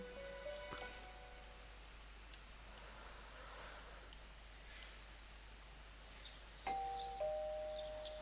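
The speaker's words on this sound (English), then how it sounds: "You hear the doorbell ringing." Electronic two-tone doorbell chime in the Persona 4 Golden video game, rung faintly once near the start and again more loudly near the end over a quiet hiss.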